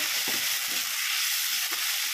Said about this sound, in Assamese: এতিয়া আদা নহৰু দি দিছোঁ, জলকীয়া অলপ জ্বলা হ'ব লাগিব